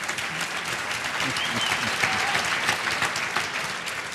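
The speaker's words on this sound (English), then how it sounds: "Sure, now they're cheering." A stadium crowd at a Cleveland Browns football event applauds and cheers in a dense, continuous roar of clapping that stays loud and even throughout.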